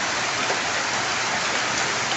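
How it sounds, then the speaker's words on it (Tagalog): Dense, continuous heavy rain roars evenly without letup, loud and close. "walang tigil ang ulan."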